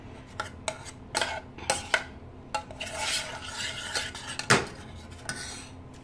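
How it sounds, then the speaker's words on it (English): Cooked beans being mashed in a pan for refried beans, with a utensil clanking and scraping against the metal in irregular knocks and a longer grinding stretch, close and fairly loud. "I'm just trying to mash them a little bit more"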